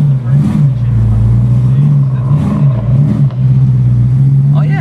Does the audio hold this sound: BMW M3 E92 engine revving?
yes